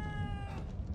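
A cat in The Evil Within 2 meows while being petted, a short tonal cry with clear harmonics over low game ambience, fading after the first half.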